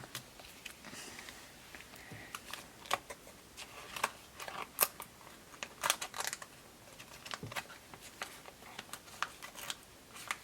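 Quiet, close snips of scissors cutting paper for a scrapbook page, irregular small clicks and crisp cuts scattered over several seconds with faint rustling.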